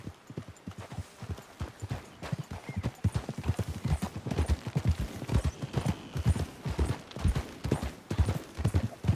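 Hooves pound in a fast, steady galloping rhythm, several horses close by and growing louder, with no speech over them, from the video game Red Dead Redemption 2.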